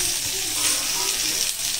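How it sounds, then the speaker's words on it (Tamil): Dried red chillies frying in hot oil in a pan, a loud, close, continuous sizzle that stays steady throughout, with no speech. "இப்போ காஞ்சி மிளகாய் போடுறோம்."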